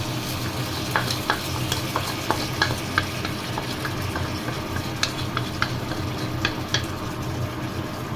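Close, steady sizzling of beef and broccoli as a soy sauce, sugar and pepper mixture is stirred in, with repeated sharp spatula clicks against the pan over the constant fry.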